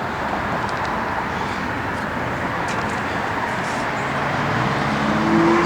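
1969 Ford Mustang Mach 1 with a V8 and automatic transmission, running: a steady low engine rumble, moderately loud and close, swelling slightly near the end, with no talk over it.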